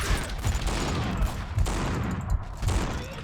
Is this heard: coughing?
no